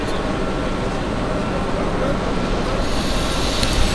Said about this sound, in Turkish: Gideceğim tren bu.